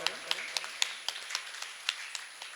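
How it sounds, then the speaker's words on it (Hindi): Faint, evenly spaced hand claps, about four per second, sound under a speaking voice welcoming a guest at an International Yoga Day event. "एक बार जोरदार तालियों से आपका स्वागत करें।"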